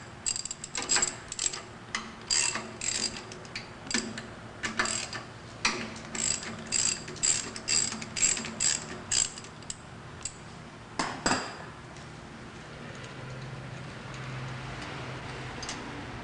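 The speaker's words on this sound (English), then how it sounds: "Sometimes it's better to use a wrench on this one." A ratcheting wrench works loose 9/16 bolts in rapid bursts of crisp, close clicks, broken by short pauses, with a quieter stretch at the end.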